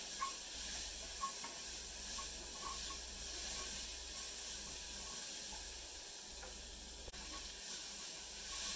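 Spices sizzle in oil in a pan as the base for a simple squash soup. A soft, continuous hiss like steam holds steady, close but faint, with no voices.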